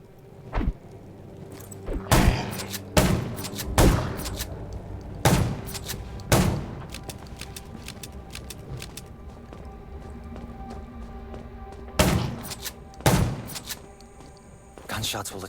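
Gunfire in the video game Undawn, a series of sharp loud shots and thuds spaced irregularly, some in quick pairs, over a low game background.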